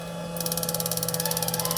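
An electric fishing inverter runs up close, its steady electrical hum breaking into a fast, even pulsing buzz once it starts putting out power.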